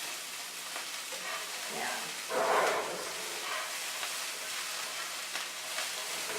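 Carrots sizzle steadily in a hot pan, stir-fry style, with a constant frying hiss and one brief louder burst partway through. A voice speaks once, briefly.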